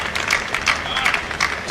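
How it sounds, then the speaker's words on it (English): Crowd cheering and clapping at a women's WTA 125 tennis match at the Cricket Club of India in Mumbai, a steady burst of applause with whoops rising and falling throughout, fairly close and loud. "Cheers from the crowd here at the Cricket Club of India."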